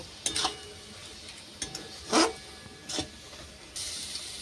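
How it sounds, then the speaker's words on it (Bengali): A spatula stirs boiled raw mango in a pan to cook down its juice, giving a few separate scraping, squelching strokes with short pauses between them, close up and moderately loud, with no talking. "এটা এবারে বারে বারে খুন্তি দিয়ে নেড়ে নেড়ে রসটা একদম কমিয়ে নেব।"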